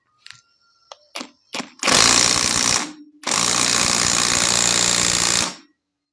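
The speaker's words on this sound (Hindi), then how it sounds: "हम इसका उपयोग करेंगे और इस 19 mm के नट को टाइट करेंगे" An impact wrench tightens a 19 mm nut on a Honda Shine engine, starting with a few short clicks and bursts, then two long, loud, continuous rattling runs up close.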